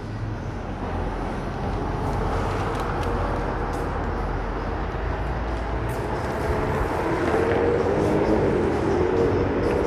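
An elevated subway train passes overhead on a Brooklyn street, a loud, steady broadband roar and rumble filling the whole stretch without letting up.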